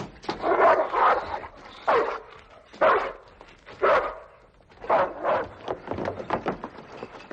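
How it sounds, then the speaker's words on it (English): A stray-looking dog loose in an alley, in a 1950s Western setting, barks in several sharp bursts with short pauses between them, close and fairly loud, with no talking over it. "Leave that dog alone."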